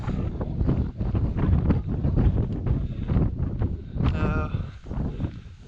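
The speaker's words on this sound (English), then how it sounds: "Quite breezy up here" Steady wind buffeting the microphone on a breezy hilltop overlooking a valley near a slate quarry, loud and continuous with gusty swells throughout.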